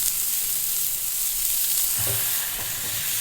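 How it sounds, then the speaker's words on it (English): Burgers sear on a Blackstone griddle with a loud, even crackling hiss that runs throughout, joined near the end by a few soft scrapes of a spatula on the flat top. "I just dropped my burgers on the Blackstone. Let me get a little sear on the bottom before I smash them."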